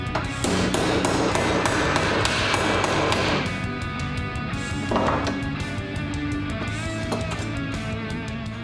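Repeated hammer blows on thick sheet metal strips clamped in a vise, bending them to 90 degrees; sharp, loud ringing strikes come in quick irregular bursts, then slower spaced hits with metallic ring.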